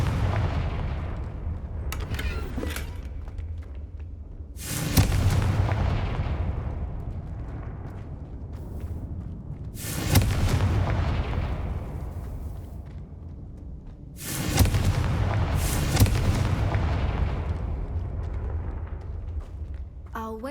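Confringo blasting spells in Hogwarts Legacy go off as four loud, sharp explosive bursts spaced several seconds apart, each decaying into a rumbling tail over a steady low background.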